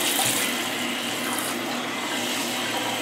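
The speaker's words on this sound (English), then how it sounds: "we can turn the water on so it's nice and warm" Warm water running from a tap to bathe a silver Persian cat, a steady close gushing stream filling the sink basin without pause, loud and unbroken with no voices.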